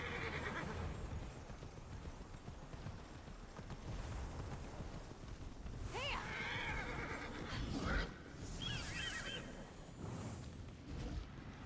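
A horse in the video game Immortals Fenyx Rising trots with steady clip-clop hoofbeats, then gives a couple of loud whinnies midway, all over a dense rumbling game soundscape.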